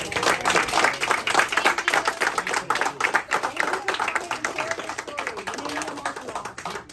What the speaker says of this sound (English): Well, big round of applause.